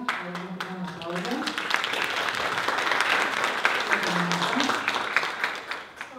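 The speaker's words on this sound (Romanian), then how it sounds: "Vă mulțumesc pentru aplauze!" At a marketing conference in a hotel hall, the audience gives a steady round of applause, many hands clapping in a continuous wash while a voice speaks briefly over it.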